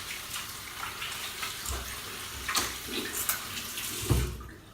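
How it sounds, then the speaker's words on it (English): Running tap water splashes steadily over soapy hands being washed, a continuous close hiss with a few brief thumps and splashes, fading out at the end. "Here we go, washing my hands."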